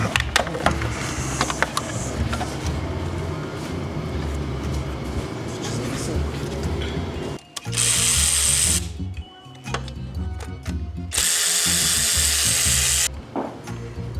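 Power tool work on a Renault Clio IV engine, loud and continuous near the microphone with abrupt stops and restarts, buzzing bursts of a driver or ratchet removing parts in a workshop.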